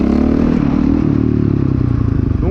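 A motorcycle lifting into a small wheelie, its loud engine revving steadily up close with some mechanical clatter and no talk.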